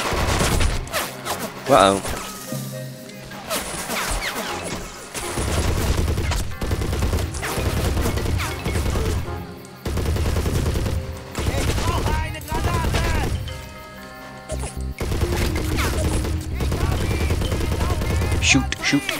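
Dense gunfire and machine-gun bursts from the WWII strategy game Men of War, with rapid volleys and booms overlapping almost continuously, while someone briefly speaks over the battle noise.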